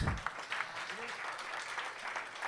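Faint, brief clapping from an audience at an award function before a violin duet concert, a soft patter lasting a couple of seconds.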